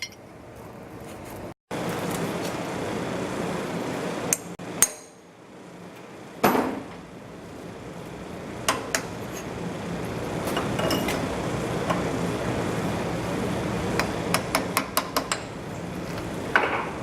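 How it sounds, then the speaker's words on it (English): A hardened steel piston pin from a diesel engine is drilled, giving a steady, loud, gritty mechanical grind that cuts out briefly a few times, with sharp metallic clinks and knocks scattered through it. "I'm going to try to drill it"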